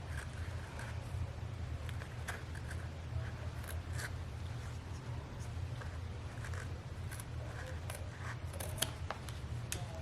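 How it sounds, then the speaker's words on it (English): Scissors snip steadily across a satin pointe shoe, a continuous series of close, crisp cutting crunches with no talking. "Now I'm just going to cut across."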